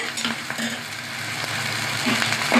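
Onions frying in a pan for Bengali chicken and potato curry, a steady close sizzle with light stirring throughout and no talking.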